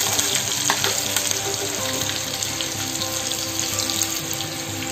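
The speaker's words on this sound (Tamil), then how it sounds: "பாருங்க கடுகு பொரிஞ்சதும் அதுக்கு ஒரு ரெண்டு பச்சை மிளகாய்" Mustard seeds crackle and green chillies sizzle in hot oil for a tempering for a Kerala thali pachadi, a loud, dense continuous frying hiss with sharp pops throughout, no talking.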